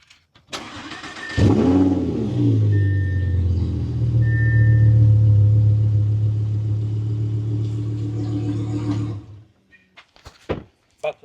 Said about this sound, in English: I'm driving the R8 back to the shop